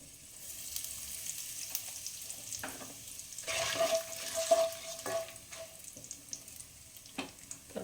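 Onions fry in oil with asafoetida and whole garam masala, giving a moderate crackling sizzle that swells in the middle, with occasional stirring scrapes.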